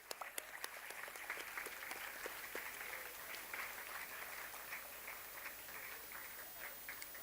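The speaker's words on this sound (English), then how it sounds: "Can we please have a big round of applause for Ms. Sanvi?" An audience at a TEDx event gives steady applause, a dense even patter of many hands clapping at moderate distance, sustained for several seconds with a few sharper claps standing out.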